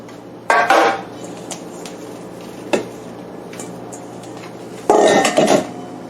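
Keto zero-carb bread dough is handled into a baking pan, with two clattering bursts of pan contact and a small knock between, close and otherwise quiet.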